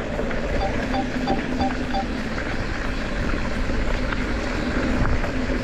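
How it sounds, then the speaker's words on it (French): A small drone whines steadily and loudly as it flies on a descent, its buzzing propellers holding an even drone throughout with no talk. "on va voir ce que ce petit drone vaut en descente maintenant"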